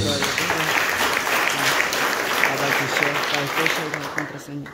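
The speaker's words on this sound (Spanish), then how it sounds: "Cuando dan palmas a la palabra de Dios." Congregation clapping at a Catholic Mass, steady clapping blended with voices and music throughout.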